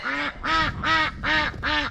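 A duck quacks five times in a steady rhythm, each quack loud, nasal and close.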